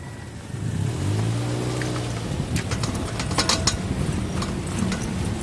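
Rapid mechanical clicking from the front right wheel of a Toyota Vios, ticking in quick bursts as the car rolls, over a low engine hum and road noise.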